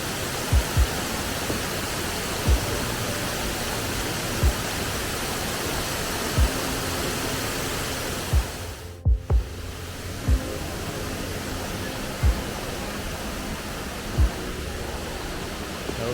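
The waterfall at Fairy Glen Falls roars as a loud, continuous broadband rush throughout, close and steady, with occasional soft thuds and a brief dropout near the middle.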